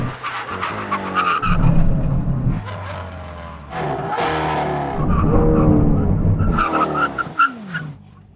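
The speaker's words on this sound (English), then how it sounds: "let's do a brake test. Right, here comes the braking zone now." Hard braking test with a 600 hp GR Yaris and a Lamborghini Aventador SV on standard brakes: loud engine roar dropping through downshifts and a tire squeal, rising and falling in two passes with no talk.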